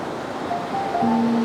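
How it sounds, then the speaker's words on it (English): Ocean waves roll in on a coast during a landscape photo shoot, giving a steady wash of surf that swells slightly louder toward the end, with no one talking. "There's 2 waves coming in here, which probably will work."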